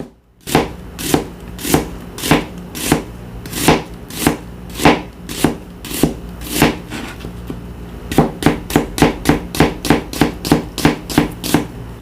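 Knife chopping cucumber into thick slices on a cutting board, a long run of crisp, evenly spaced strokes that speed up toward the end, close and clear with no talking.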